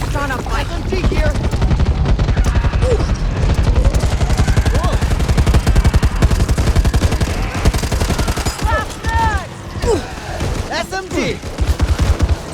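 SMG gunfire in the zombie shooter Back 4 Blood rattles in dense, sustained automatic bursts, loud and close, layered with game effects and brief chirping tones.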